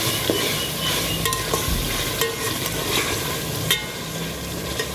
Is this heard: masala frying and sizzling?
yes